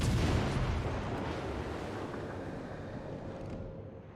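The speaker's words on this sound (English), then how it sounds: "Keep firing your guns. Keep on doing that." Naval guns roaring in World of Warships, a dense, heavy wash of cannon fire and booming blasts over sea noise, loudest at the start and rumbling on steadily for the whole stretch without speech.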